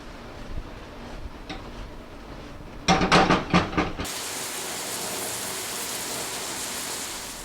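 Onions and mushrooms sizzling in a hot pan, with a brief burst of rattling as they are tossed, followed by steady bright frying hiss close up and with no talking.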